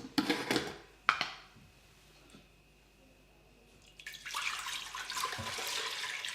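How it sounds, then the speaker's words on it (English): Cold raw unpasteurized milk from the fridge poured into a pot, a few splashy knocks early on, then a steady close liquid pour rushing for the last couple of seconds. "So here we go, let's pour it in a pot."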